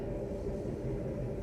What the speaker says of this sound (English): I apologize about the train.